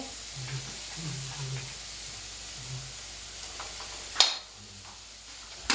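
Cabbage, French beans and carrots sautéing in a pan give a steady close hiss and sizzle throughout, with a sharp clatter near the end and faint background voices.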